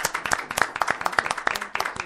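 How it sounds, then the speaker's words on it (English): Scattered applause from a small audience thanking a guest at the close of an interview event, a brief burst of uneven individual claps with no talking. "I want to give you a round of applause."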